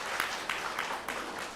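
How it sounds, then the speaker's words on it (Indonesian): Audience applause at an Atomy leaders' club sharing session, a room of people clapping together in a steady, fairly loud burst that carries through the whole moment without talk. "Tepuk tangan untuk ginseng Bapak Ibu"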